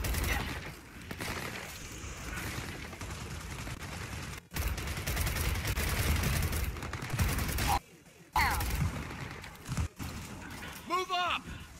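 Gunfire at an enemy in Gears of War 4, with sustained bursts amid battle clatter and mechanical noise, broken by brief pauses and overlaid by voices talking.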